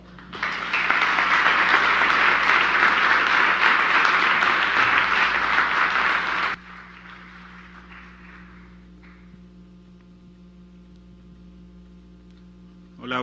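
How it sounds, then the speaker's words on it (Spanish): Audience applause greets speaker Carlos Garza at an evening negotiation talk, a loud burst of clapping for about six seconds that cuts off abruptly, leaving a quiet room with a steady electrical hum. "un gran aplauso a Carlos Garza"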